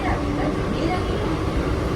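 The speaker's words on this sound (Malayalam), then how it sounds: "നമ്മൾ ഫാസ്റ്റ് തന്നെ ഇവിടുത്തെ ലോക്കൽ ട്രെയിനാണ് എടുത്തിരിക്കുന്നത്." A Mumbai fast local train runs along with a constant loud rumble and rattle from inside the carriage, and a babble of passenger chatter sits underneath.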